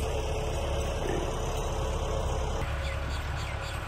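A Massey Ferguson MF 385 tractor engine runs steadily in a broad, continuous low rumble with no breaks or revving.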